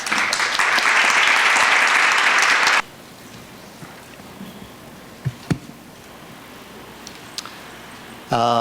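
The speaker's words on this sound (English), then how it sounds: "please give him a warm welcome, round of applause" An audience welcomes an ambassador with a short burst of warm applause that cuts off sharply after about three seconds, leaving a quiet room with a few faint knocks and a brief rise of noise at the end.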